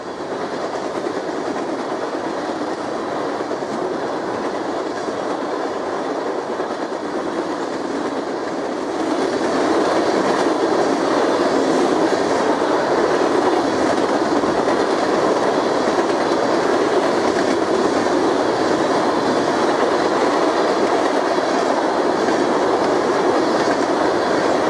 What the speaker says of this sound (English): Empty crude oil train K-161 heads westbound with a pair of BNSF units.